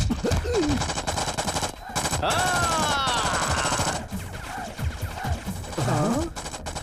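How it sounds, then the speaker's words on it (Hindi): Gunfire sprayed at a wall in a Hindi-dubbed South Indian action movie, a loud sustained burst of automatic shots mixed with dramatic music and scattered vocal sounds throughout. "इतनी देर से मैं दीवार पे गोली चला रहा था"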